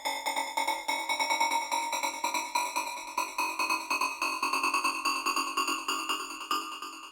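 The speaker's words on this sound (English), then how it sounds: "Nice glassy type of lead here." A glassy synth lead built from a unison saw wave plays a quick run of repeated bright notes with rich upper harmonics and a slow pitch rise, loud and clean with nothing else present.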